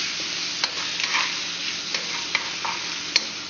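Butter is stirred into a pasta sauce in a pan, a close wet scraping and soft sizzle with a few sharp clicks of the utensil against the pan.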